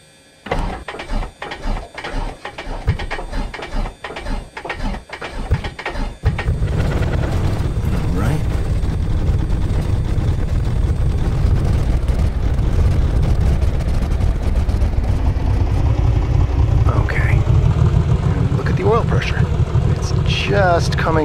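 A Piper Comanche 250 engine in Microsoft Flight Simulator cranks with a rhythmic series of chugging pulses, catches, and settles into a loud, steady droning run, with someone talking over it.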